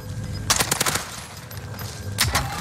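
Rapid bursts of automatic gunfire in a battle royale video game, two clusters of sharp cracks separated by a pause, heard over a steady background of game ambience.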